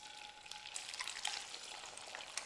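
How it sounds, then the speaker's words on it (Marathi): Eggs cracked straight into hot oil in a pan, giving a faint, steady crackling sizzle with small pops, close and quiet with no voices. "दोन अंडी घेतली होती ना ती याच्यामध्ये अशी डायरेक्ट फोडून घालायची"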